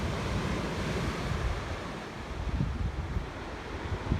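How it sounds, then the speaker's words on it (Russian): Big sea waves crash and roll steadily at Cape Aiya on the Crimean coast, with a continuous loud surf roar and gusty wind buffeting the microphone throughout. "Вон какие волны. Ух."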